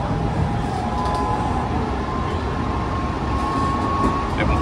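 A Hanshin Railway jet car train rumbles steadily along the Hanshin Main Line at speed, with a continuous low roar and a faint tonal whine throughout, no talking.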